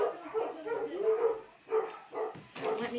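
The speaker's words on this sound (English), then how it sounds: "Oh, my dogs are going to go crazy." Several indoor dogs bark in quick bursts with a couple of pauses between them, fairly close and moderately loud, with some yips mixed in.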